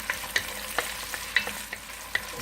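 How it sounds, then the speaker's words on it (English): Onion frying in a pan for chicken adobo, a soft steady sizzle punctuated by repeated light scraping and clicking stirs, close and alone with no voices. "Now we're gonna add on the onion"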